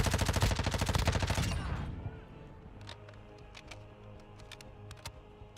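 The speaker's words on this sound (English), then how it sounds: "I don't know what he's shooting at me." Video game gunfire: a fast automatic burst of shots in the first two seconds, then quieter scattered single cracks at a distance over a low background hum.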